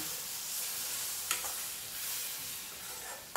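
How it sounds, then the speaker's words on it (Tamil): Tomato paste and masala sautéing in oil for a goat intestine gravy: a soft, steady sizzle with a faint scrape of stirring partway through, no voices. "அதையும் ஒன்றா சேர்த்து நல்ல எண்ணெய் பிரிஞ்சு வர அளவுக்கு கொஞ்சம் வதக்கி விடலாங்க"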